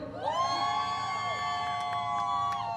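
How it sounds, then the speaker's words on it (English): Crowd at a rally against the Muslim ban cheering and whooping on call for Iranians in attendance, a sustained loud roar of voices with shrill high whoops layered throughout. "All the Iranians in the crowd, make some noise."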